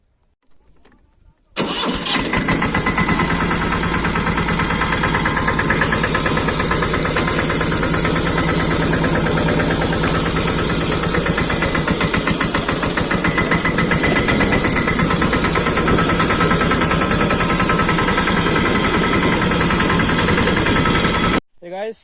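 A farm tractor engine fires up and then runs loudly and close for about twenty seconds, a steady, rattling diesel idle that stops abruptly near the end.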